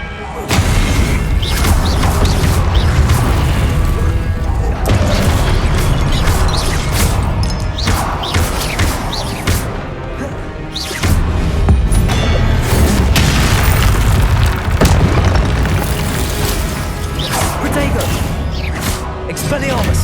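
Loud, close spell blasts from the Hogwarts Legacy video game boom and crash in rapid bursts over the whole stretch, mixed with impact thuds and layered under a voice calling out repeatedly.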